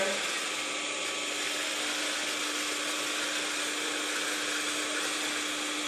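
Steady, loud mechanical hum and whine of an induction motor spinning at 1480 RPM in an electrical lab, with a constant tonal drone and no pauses throughout.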